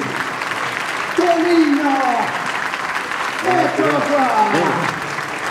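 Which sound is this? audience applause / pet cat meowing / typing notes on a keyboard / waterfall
audience applause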